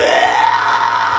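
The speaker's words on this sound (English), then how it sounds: "you can also extend that up into a very high scream" A vocal technique demonstration of a high fry yell scream: one loud, sustained, strained high-pitched vocal scream held steadily throughout, close and alone.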